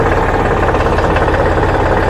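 A tractor engine runs loud and close with a steady, pulsing low-pitched throb and vibration as it drives down into a pit, with no voices.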